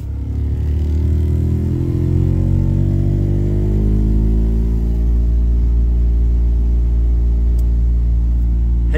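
A faulty, vibrating heater blower motor in a 2014 Ford F-150 makes a loud, steady helicopter-like drone with a rising and falling whirr, heard close and without voices.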